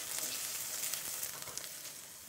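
Thawing frozen garlic cubes and chopped onions sizzle steadily in a hot pan, a continuous bright crackling hiss with small pops, close and alone.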